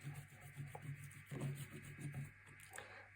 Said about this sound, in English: give it a good burnish around the magnet